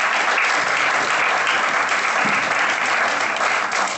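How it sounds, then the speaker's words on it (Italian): An audience at an Italian talk on vegetarian nutrition for children applauds to welcome a professor, continuous dense clapping from many hands, loud and even from start to finish. "Salutiamo con un applauso il professor Leonardo Simoni,"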